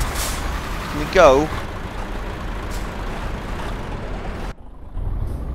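A truck's air brakes give a short pneumatic hiss in Euro Truck Simulator 2, over a steady engine drone and road noise, with someone talking briefly.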